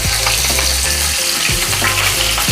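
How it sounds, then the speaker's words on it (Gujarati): Mustard seeds, cumin, asafoetida and green chilies tempering in hot oil, a loud close crackle and sizzle with scraping stirs, joined by a low rumbling hum that cuts in and out. "રાઈ ક્રેકલ થાય એટલે આપણે એમાં જીરું, હિંગ, સ્લો ગેસ કરવાનું, લીલા મરચાં"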